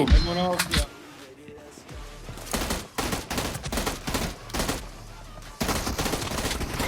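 Gunfire in the mobile battle-royale game PUBG Mobile, bursts of automatic shots and rapid volleys, loud and close, while players talk excitedly over it.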